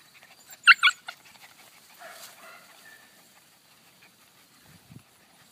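Cocker spaniel mix puppies let out a couple of high, sharp whimpering yelps close by, followed by softer faint whines and quiet rustling in a mostly still space.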